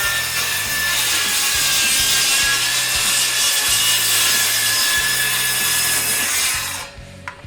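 A Makita 36V rear-handle worm drive circular saw rips steadily through wood, a loud continuous whine and grinding cut that holds for about seven seconds before cutting off abruptly, the blade winding down faintly at the end.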